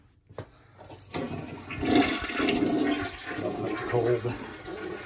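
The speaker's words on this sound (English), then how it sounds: "we're gonna flush the toilets and everything out so we can get the water out of the lines" A household toilet flushes nearby, a loud rushing swirl of water starting about a second in and continuing steadily to the end, with faint voice-like sounds mixed in, as lines are drained in a house.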